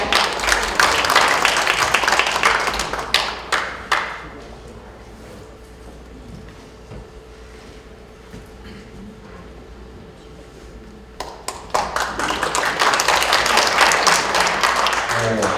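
Audience applause at a book launch talk concert honoring a Morning Journal broadcaster, a burst of clapping that fades to near quiet in the middle before swelling again loudly toward the end.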